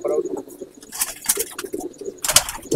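Pigeons in a home loft, among them Kalanka and Phulkira birds, coo and murmur in bursts. Scattered rustles and chirps mix in, and a faint voice comes and goes.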